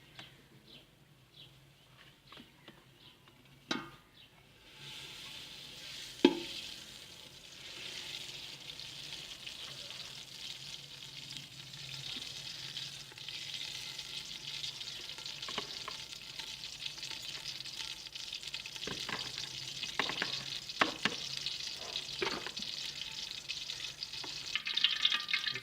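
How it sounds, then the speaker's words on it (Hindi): Ghee heating in a pot over an open fire, rising into a steady broad sizzle and crackle that keeps building, with a few sharp knocks early on; close and continuous, no talking. "इसके ऊपर पतीला रख देंगे और इसमें घी डाल देंगे।"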